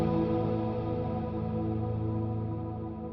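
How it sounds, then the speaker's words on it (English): A sustained guitar chord wrapped in long reverb, its wash slowly fading over a 12-second decay and losing brightness, with no playing or voices over it. "the reverb hold turns off and it finishes out its 12 seconds of decay"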